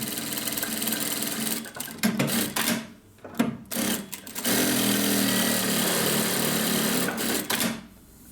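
New zero-stitch sewing machine driven by a foot pedal, running in loud steady bursts of rapid stitching separated by short pauses and stops, with a longer unbroken run near the middle, close up and with no talking.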